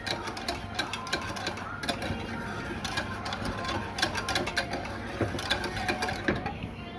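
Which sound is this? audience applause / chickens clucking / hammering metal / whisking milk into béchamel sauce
whisking milk into béchamel sauce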